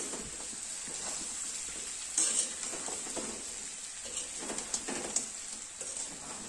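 Chicken bhuna frying in a kadhai, a faint sizzle under occasional scrapes and clinks as it is stirred now and then, quiet and close.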